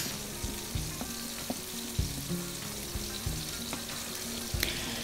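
Fish roe fries with zucchini in a pan and is stirred, a constant sizzle punctuated by repeated knocks and scrapes of the utensil against the pan, with no voices.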